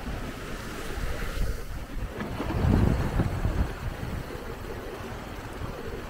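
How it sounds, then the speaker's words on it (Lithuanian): Steady wind and rushing sea noise aboard a sailing boat on the Arctic Ocean near Svalbard, under light rain, swelling briefly in the middle of a constant, close, broadband wash. "Na, toks ir lengvas lietutis."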